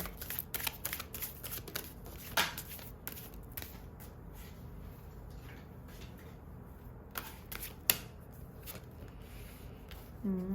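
Oracle cards being shuffled by hand, close and quiet, with repeated crisp riffles and taps spread across the stretch and no speech over them.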